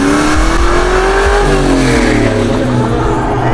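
A Camaro engine revs sharply when a gear shift is missed, with a rising whine that drops suddenly, then bursts of mid-pitched revving, loud and close, with no talk.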